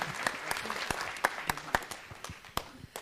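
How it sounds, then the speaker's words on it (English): An audience at a city council meeting applauds a youth council and young people, giving steady, fairly faint, dense clapping from many hands with a few louder individual claps standing out. "everybody give them a great big round of applause"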